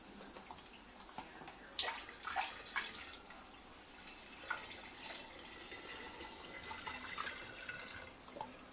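Honey and water mead must for spiced orange mead being poured from a sterilised jug into a stock pot: continuous splashing and gurgling with bright drips, fairly close and uninterrupted by speech.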